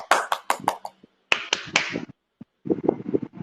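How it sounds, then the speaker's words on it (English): A small group claps in a round of applause during a live broadcast class session, short bursts of light hand claps with brief gaps, close and moderately loud. "Round of applause for Ellie."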